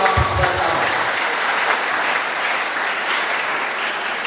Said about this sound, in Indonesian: Coba tepuk tangan dulu sama Pak Kepala Cabang.